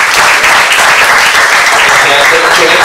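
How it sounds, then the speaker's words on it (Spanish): A crowd applauds loudly at a family ceremony for a player committing to a university, a dense, continuous wash of clapping, near and strong throughout, with faint voices mixed in. "quisiera que le diéramos un aplauso"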